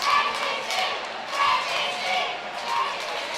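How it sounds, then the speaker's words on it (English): Hockey crowd at a varsity high school playoff game, roaring and shouting to rally their team during a penalty kill, a steady broad swell of voices with surges of cheering at the start and midway, continuous through the clip. "Crowd trying to rally their squad"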